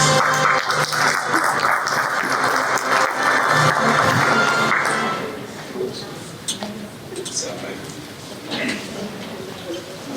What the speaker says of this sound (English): Alright, applause audience.